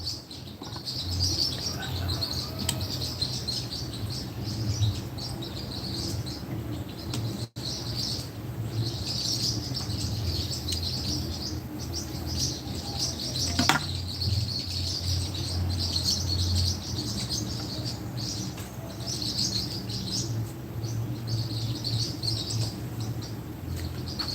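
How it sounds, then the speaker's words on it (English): Small green lovebirds chirp outdoors in a steady high twittering chorus from a distance, over a constant low background rumble. "My mom used to call those little green birds lovebirds. They travel in pair."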